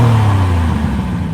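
A car engine revs with a steady, loud mid-low drone whose pitch dips slightly partway through, heard alone without voices.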